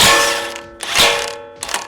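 A DeWalt impact wrench in reverse removes the CV axle nut on a Lexus GX470, with three loud, close, rattling hammering bursts, each under a second, separated by brief pauses.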